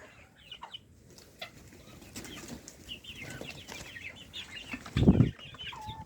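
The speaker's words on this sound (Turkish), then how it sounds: "Saldım civcivleri böyle." Chicks cheep and chirp softly, with a sudden loud burst of wing flapping near the end.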